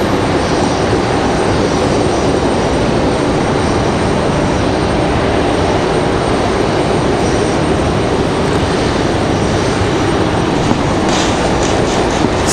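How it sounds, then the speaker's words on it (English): An American Airlines jet taxis toward the D gate at Raleigh-Durham International Airport. Its engines give a loud, steady roar with no break and no voices. "So American Airlines off to the D gate so they can load up"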